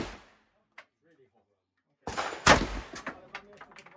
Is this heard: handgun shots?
yes